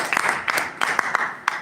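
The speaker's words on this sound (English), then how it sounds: "Please give him a huge round of applause." Scattered applause from a small Toastmasters meeting audience, a handful of distinct claps with gaps between them, moderately loud and close, with no talk over it.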